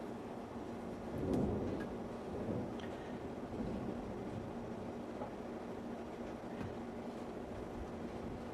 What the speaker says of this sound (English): We're having a nice little thunderstorm outside.